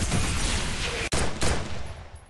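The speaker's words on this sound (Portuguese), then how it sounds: "Tá vendo que ele tem um efeito de tiro especial, ó? Como se estivesse atirando em vidro." MP40 submachine gun firing with a special effect in the Free Fire mobile game, a dense continuous burst of rapid shots with a bright, glassy crackle, loud and close.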